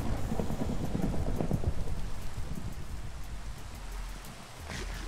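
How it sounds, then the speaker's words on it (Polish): Steady heavy rain pours through a Minecraft thunderstorm, with low rumbles of thunder rolling underneath and a brief crackle near the end, all without any voices. "To jest burza."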